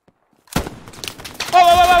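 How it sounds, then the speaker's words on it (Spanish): Gunfire in the World War II shooter game Hell Let Loose: after a moment of silence, a loud burst of rapid shots crackles, then a sustained tonal roar of sound takes over near the end. "¿Se escuchan disparos cerca?"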